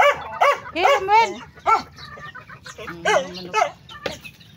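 Chickens cluck and squawk close by in short, irregular bursts, with a few sharper calls mixed in.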